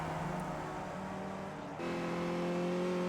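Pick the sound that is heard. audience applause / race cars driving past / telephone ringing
race cars driving past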